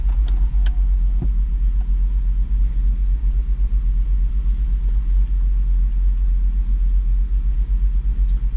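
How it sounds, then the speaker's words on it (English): A Jeep SRT-8 engine idling poorly, heard as a loud, low, continuous rumble with uneven pulsing throughout and no voices. "this thing really idles poorly"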